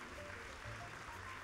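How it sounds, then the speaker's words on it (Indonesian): A church Christmas service audience applauds a children's dance performance, giving steady, dense clapping that holds at an even, moderate level throughout. "Kita beri tepuk tangan sekali lagi"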